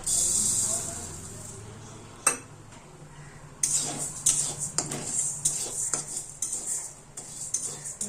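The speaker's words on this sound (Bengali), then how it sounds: "কড়াই গরম হয়ে গেছে প্রথম ডালটাকে ভেজে নেব" A loud sizzling hiss of lentils hitting a hot wok fills the start, then metal utensils scrape and clink against the wok amid continued frying.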